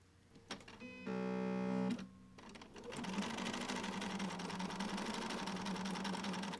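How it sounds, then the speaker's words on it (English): Sewing machine stitching along the edge of appliqué fabric, a steady loud mechanical whir running continuously after a short burst and a brief pause at the start. "Let's sew one of these together."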